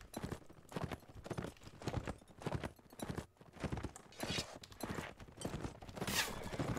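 Horses gallop in the medieval combat game Mount & Blade, a busy, continuous rush of hoofbeats mixed with battle clatter, quiet overall but steady throughout.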